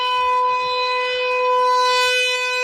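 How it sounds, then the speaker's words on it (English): A loud, steady tornado siren near Rockton wails continuously with strong harmonic tones, rising slightly in intensity midway, with faint low rumbling of thunder beneath and no talking. "That tornado siren is so loud."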